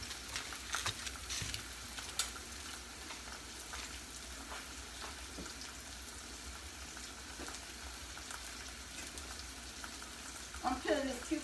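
Pork chop searing in a hot skillet, a steady broadband sizzle and crackle running throughout at moderate level, with a few sharper pops and stirring scrapes near the end.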